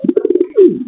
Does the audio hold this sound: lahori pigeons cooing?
yes